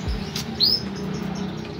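An imported canary gives a single sharp, high chirp at close range over a low background hum, with no talk.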